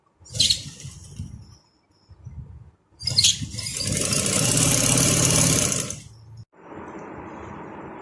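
An electric sewing machine stitches down a folded edge on a shalwar. It runs in short bursts at first, then in a longer loud steady run, and ends with an even mechanical hum, close by with no voices.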